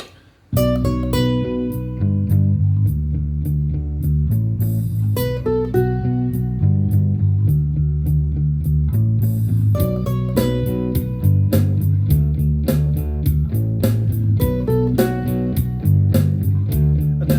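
Steady rhythmic ukulele strumming over a full backing track, bright plucked chords repeating through the whole passage at a constant loudness.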